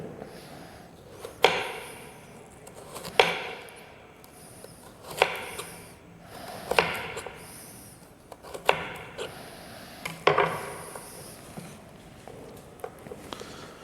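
A knife cuts potato pieces into batons on a cutting board, with about seven crisp, evenly spaced chops and quiet scraping between strikes, close and clear with no talk.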